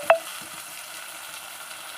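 Chopped tomatoes and gongura leaves fry in a hot pan with a steady, close sizzle, opening with a brief sharp clink.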